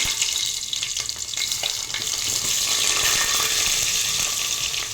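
Onion, green chilli and peas frying in oil in a pan, a steady, loud, hissing sizzle that runs unbroken throughout, with faint stirring scrapes underneath.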